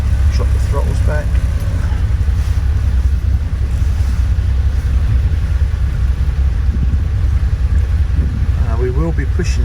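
A cruising boat's engines rumble loudly and steadily as the throttles are eased back. Heavy low drone is mixed with wind buffeting and water rush, with brief voices faintly in the background.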